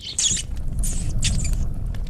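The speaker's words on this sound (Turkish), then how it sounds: "Ben yaklaştıkça fare sesi artıyor." Mouse squeaks in the horror video game Layers of Fear: several short, high, shrill chirps in quick bursts over a low rumbling ambient drone, fairly close.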